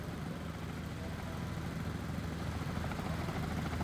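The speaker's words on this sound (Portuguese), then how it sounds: "Tem o que tá passando, helicóptero? Tô escutando." A helicopter passes over Balneário Camboriú, a steady broadband engine and rotor rumble that holds at even loudness for the full stretch with no voices over it.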